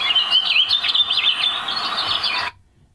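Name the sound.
forest ambient sound with birds played from a speaker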